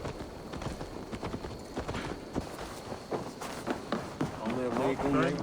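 Horse hooves clip-clop in Assassin's Creed Valhalla, a brisk irregular run of close hoofbeats with voices talking over them, growing louder toward the end.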